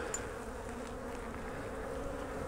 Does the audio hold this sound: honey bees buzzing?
yes